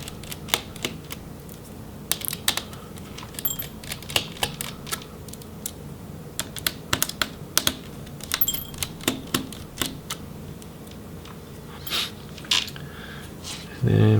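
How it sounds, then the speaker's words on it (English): Screws come out of a Lenovo ideapad Flex 5 1570 laptop, a close run of small sharp clicks, taps and light metallic ticks scattered irregularly over about fourteen seconds, with no talking. "we can go ahead and remove the screws"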